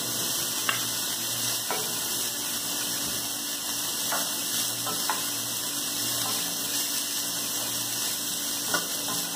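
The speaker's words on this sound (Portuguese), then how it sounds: "agora eu vou fritar o bacon" Bacon frying in a pan for a cassava broth gives a constant, close sizzling hiss, with scattered small crackles and pops throughout.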